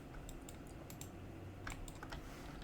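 Computer keyboard keys clicking in a quick scattered burst, close and fairly faint, as a shortcut is pressed during 3D modeling work.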